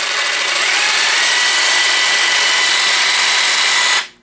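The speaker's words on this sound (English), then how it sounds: "And the Jigsaw works very good." A Makita CXT 12V brushless jigsaw runs at speed 1, giving a steady, loud, close buzzing whine that holds evenly for about four seconds before cutting off abruptly.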